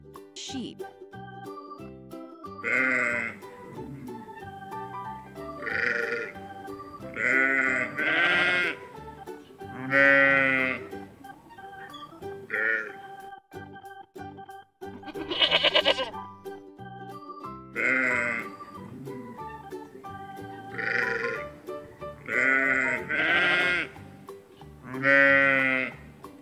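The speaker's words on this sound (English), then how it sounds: "Next, sheep." Sheep bleating repeatedly in short wavering calls spaced by pauses, loud and close, with soft background music, in a children's farm-animal sound lesson.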